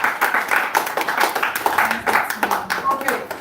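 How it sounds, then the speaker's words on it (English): An audience claps in a short burst of applause at a talk on starting a cloud computing career, the clapping fairly close and uneven, with a voice speaking over it. "a round of applause for her"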